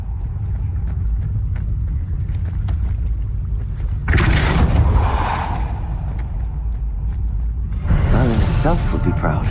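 A Depulso force spell cast in Hogwarts Legacy, a harsh whooshing burst that rises suddenly, lingers for about a second, then hits again near the end, over a steady low rumble with voices throughout.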